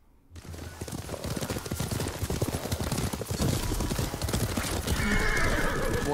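A black horse in the Ghost of Tsushima video game whinnies and snorts over a steady run of clip-clopping hooves, loud and close, with rushing ambience building toward the end.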